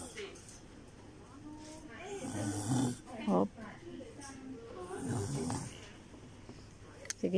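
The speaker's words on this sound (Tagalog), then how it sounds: "Lakas ng hilik niya" A sleeping person snores in a few heavy, rasping bursts, quiet at first and then louder, over a low murmur of background sound.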